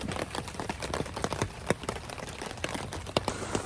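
Steady rain patters and splashes on a surface at a riverbank campsite, with scattered louder drips tapping close by throughout.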